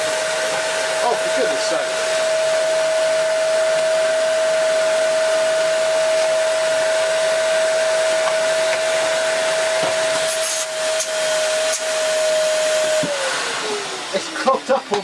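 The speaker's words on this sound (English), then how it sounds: "Wait for the motor to slowly ramp up." A Hoover Dust Manager cyclonic cylinder vacuum cleaner, 2300 W, set to max, runs with a loud steady whine and airy hiss that holds for most of the stretch before the pitch drops near the end; a voice exclaims briefly.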